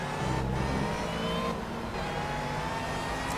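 An open-wheel race car with a supercharged engine in the Project Cars video game drones steadily at close range, a loud sustained engine tone with slight pitch shifts and no talking.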